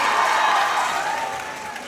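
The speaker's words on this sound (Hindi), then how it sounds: "तो जोरदार तालियां हो जाए फिर से नेताजी के लिए।" Loud applause from the audience at a comedy cultural program by NCC cadets, a brief, dense patch of clapping and crowd noise that fades slightly over under two seconds.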